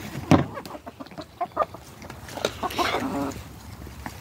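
Ameraucana roosters and hens clucking at feeding time in a January farmyard: a cluster of close, busy clucks and squawks in uneven bursts, with a voice talking softly among them.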